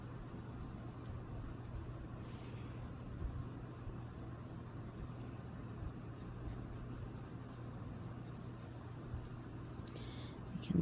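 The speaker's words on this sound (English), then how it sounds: "Let there be some funny scratchy lines with my sharp side of the tip." Scratchy lines drawn on paper with the sharp side of a coloured pencil tip, a soft continuous scraping close by under steady background hum, with no talk.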